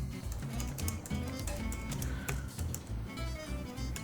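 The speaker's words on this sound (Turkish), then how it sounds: "Buraya geliyorum, yazıyorum." Fast, steady typing on a computer keyboard, a dense run of close, crisp key clicks filling the whole stretch with no voices over it.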